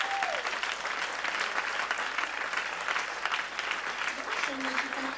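A church congregation claps and cheers loudly in acclaim, sustained applause filling the room throughout with crowd voices mixed in.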